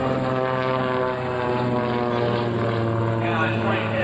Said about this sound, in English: we'll listen to the Pratt & Whitney 500 horsepower engine